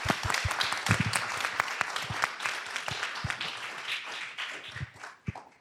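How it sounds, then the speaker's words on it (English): Applause from a convention symposium audience, individual hand claps crisp and distinct over a dense patter that thins slightly toward the end, fairly quiet overall. "So I just want to give a round of applause to everyone in that regard."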